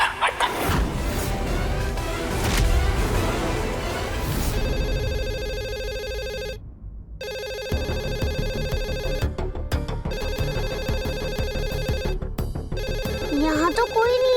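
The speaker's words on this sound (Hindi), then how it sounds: "मैं ही फोन उठा लेती हूँ।" A telephone rings repeatedly with a steady electronic ringtone pattern in a home drama scene, loud and clear, with dialogue and music heard beneath and around the rings.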